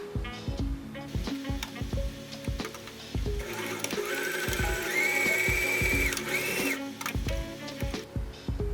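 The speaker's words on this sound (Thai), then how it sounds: "เราก็จะนำไปเย็บค่ะโดยเย็บตามเส้นตะเข็บที่ เราได้ขีดเส้นเอาไว้แบบนี้เลยค่ะ" Sewing machine stitching along a marked seam line on fabric for a bucket-shaped handbag, a close, loud run of rapid mechanical clatter with repeated short bursts and one sustained stretch of continuous stitching, no talking.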